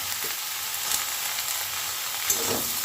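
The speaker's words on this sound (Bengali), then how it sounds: "আলু আর বেগুনটা দিয়ে দিয়েছি আর দিয়ে দেবো একটু কুঁচানো পেঁয়াজ" Potato, eggplant and chopped onion frying in a pan for a bitter-gourd-leaf chorchori, a steady dense sizzle with faint stirring, close and continuous.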